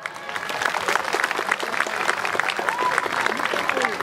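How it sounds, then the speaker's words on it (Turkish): Concert crowd at an outdoor festival in Çukurca applauding, a steady, dense wash of many hands clapping that carries on without a break for several seconds. "Evet, alkışlar hiç durmuyor."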